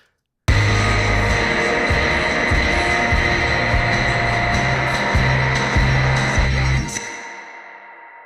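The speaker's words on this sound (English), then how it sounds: "How about a metal stairwell and crank the wet up." A reversed sound with metal stairwell reverb: a droning, throbbing sustained tone with a heavy metallic reverberant wash, swelling in and trailing off into a long echoing decay.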